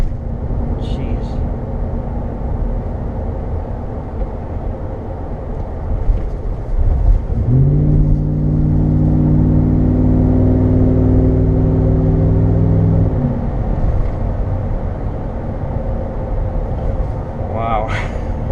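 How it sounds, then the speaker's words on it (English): A Ram 1500 pickup truck engine idles, then revs up to a loud steady drone for several seconds before settling back, with someone speaking near the start and end. "This truck runs great. I love it. A Ram 1500"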